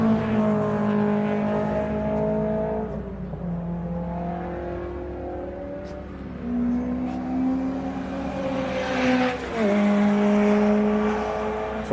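Race cars from club series such as MG Cup, Metro Cup and BCV8 passing on the Donington Park circuit during qualifying on a hot day; several engine notes rise and fall steadily as cars come over, continuous and moderately near.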